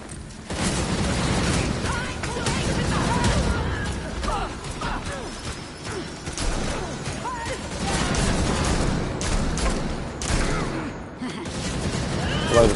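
Sniper gunfire in the video game Gotham Knights, played as Red Hood, crackles as dense bursts of shots and impacts layered over game noise, with a voice talking throughout.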